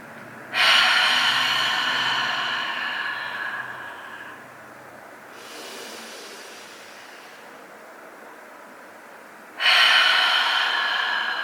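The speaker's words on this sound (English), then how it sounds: "Deep breath in through your nose. Exhale out the mouth." A person draws a long, deep breath in through the nose, then exhales slowly out the mouth during a gentle beginner yoga warm-up, with a second inhale starting at the end; loud and close, no talking.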